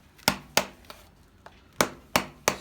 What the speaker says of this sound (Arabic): تقص المسامير علشان تشيل الحذوة.